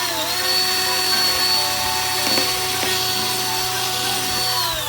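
A steady, whining drill with a woodworking bit runs throughout, grinding into a Suzuki Every van's front left panel with a couple of brief catches as it bites through.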